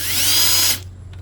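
A power drill bores through a broken head bolt on a Tecumseh engine near a cooling fin, one loud steady whine with rising pitch that cuts off sharply after under a second, leaving a low hum.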